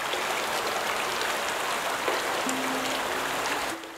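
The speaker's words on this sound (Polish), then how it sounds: "Okej, okay, wodę puściliśmy." Water flowing in the video game Obduction after being turned on, a steady, loud rushing splash like heavy rain, continuous and close, with a low electronic tone entering near the end.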